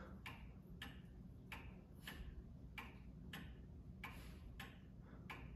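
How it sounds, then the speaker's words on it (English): An antique Black Forest cuckoo clock made around 1900, a little over two feet tall, ticks in a steady even rhythm, each beat a crisp, faint click against a quiet room hiss. "here we have a very nice, kind of unassuming Black Forest Cuckoo clock."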